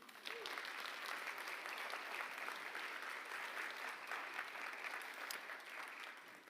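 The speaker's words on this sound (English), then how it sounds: "So I think a round of applause for the entrepreneurs." An audience at a university startup showcase applauds the entrepreneurs in a dense, steady round of clapping that fills the room evenly for several seconds.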